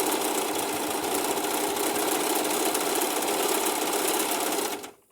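A Singer Profinish serger runs steadily as it sews fabric, a loud, continuous mechanical whir with a fast stitching rattle that holds evenly for nearly five seconds, then stops abruptly.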